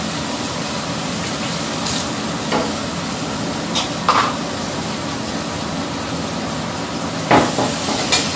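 Steady sizzling of spices frying in hot oil for a tadka tempering on vegetables, a close continuous hiss with occasional stirring clatter and sharper pops.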